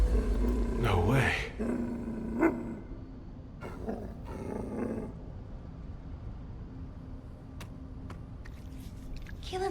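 A dog growls low in the video game The First Descendant, a rough rumbling snarl early on, mixed with game effects and background sounds across the scene.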